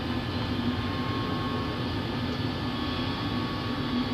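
Airliner on its landing roll with reverse thrust engaged, giving a loud, steady engine roar with a low drone that holds without a break throughout.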